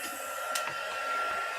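A steady, airy blowing hum from a heat gun runs throughout, close and constant, with a faint high whine and a couple of small knocks.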